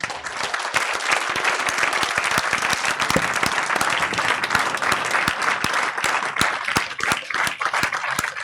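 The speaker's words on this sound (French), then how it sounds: "On peut les applaudir aussi" Warm, continuous applause fills the council chamber at a municipal investiture session in the Cassis town hall, many hands clapping at an even, loud level throughout.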